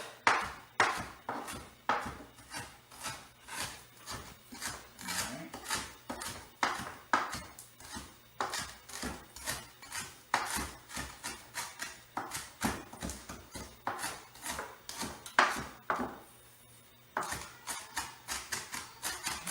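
A knife chops fresh parsley on a board in rapid, steady strokes, close and crisp, with brief pauses between runs of cuts.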